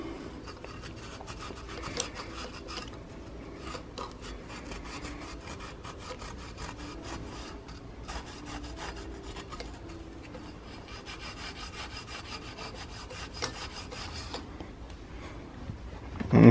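Scotch-Brite pad scrubbing a reloading press part for a Hornady Lock-N-Load AP on a workbench, rapid repeated rasping strokes throughout, close and steady, with no talk.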